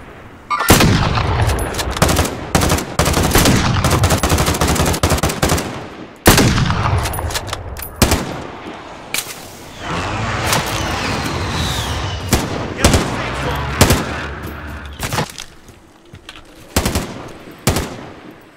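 Gunfire in the Call of Duty Warzone game, loud bursts of rapid automatic fire and single cracks coming in clusters, with short pauses and ringing tails between volleys.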